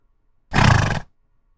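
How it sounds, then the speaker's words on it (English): A horse neighs once, a short loud whinny lasting about half a second, isolated in silence. "horse."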